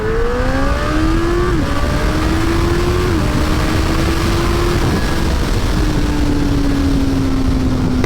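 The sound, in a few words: Honda CB1000R motorcycle accelerating, engine revving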